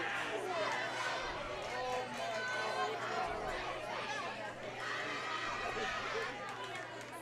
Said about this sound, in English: I looked away for just a moment and the crowd erupted.